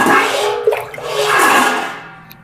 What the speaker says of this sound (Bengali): এতে একটু জল দিয়ে এটা সেদ্ধ করব।